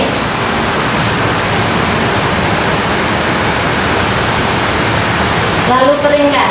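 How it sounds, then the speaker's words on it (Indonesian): Steady broadband hiss of cold water poured to rinse a patient during a bed bath, continuous and close for several seconds before a brief voice at the end. "Bilas menggunakan air dingin."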